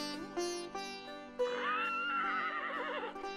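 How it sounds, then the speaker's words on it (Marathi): A horse gives a single loud, close whinny lasting about two seconds, preceded by brief tonal bursts, with no talking over it. "ही कोणाची किंकाळी? घोड्याची."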